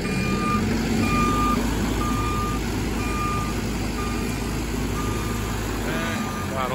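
A wireless crawler machine reversing, its backup alarm beeping in a steady evenly spaced rhythm over a loud continuous engine rumble, with a voice talking briefly.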